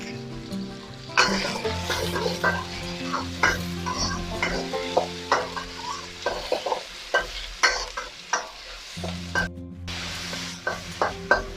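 Vegetables for Chicken Manchurian stir-fry on a high flame, with a sizzle broken by repeated sharp scrapes and clanks of a spatula against the pan at a quick, uneven rhythm.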